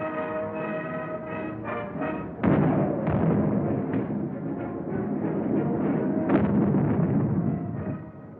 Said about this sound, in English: Both times they had come up against a wall of automatic weapon, mortar, and artillery fire.